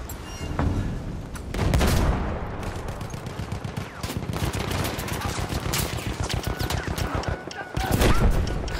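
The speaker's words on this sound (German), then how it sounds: "Die Artillerie hat richtig reingehauen." Sustained battlefield din from the World War I shooter Battlefield 1, Rush mode on the St Quentin Scar map: dense overlapping gunfire with heavy booming artillery blasts, loud and continuous, swelling into bigger impacts near the start and end.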